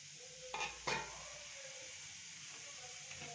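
Onions with ginger-garlic paste frying in sesame oil for mutton curry, a soft, even sizzle broken by two brief clatters of a spoon against the pan early on, quiet and close.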